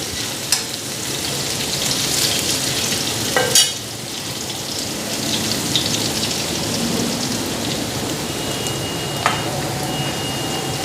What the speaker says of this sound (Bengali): হালকা ফ্রাই হয়ে গেছে আর বেশি ফ্রাই করুম না ডিমটা দিয়ে দিই